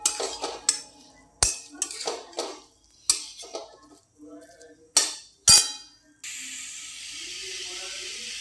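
Chickpea greens are sautéed in a pan after a drizzle of oil, with a series of sharp clanks and scrapes of a utensil against the pan, followed by a steady hiss of frying at the end.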